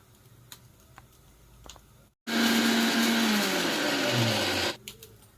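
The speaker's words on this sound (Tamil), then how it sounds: "இதை வந்து கொஞ்சம் கரகரப்பாக அரைச்சி எடுத்துகிட்டு வந்துடுறேன்." A mixer grinder coarsely grinds herbal ingredients for homemade hair oil in one loud, steady whirring burst of about two and a half seconds, starting abruptly after a short silence and cutting off sharply.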